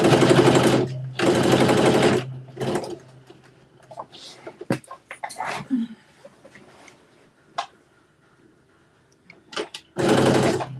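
Sewing machine stitching a collar seam, running in loud sustained bursts at the start, around the two-second mark and again at the end, with quieter handling noises and soft fabric rustle in between.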